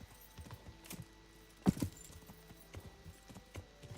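Horse hooves clip-clop at an unhurried walking pace in Kingdom Come: Deliverance, a tired horse traveling a straight path toward a monastery, with soft irregular thuds and one louder clattering step in the middle.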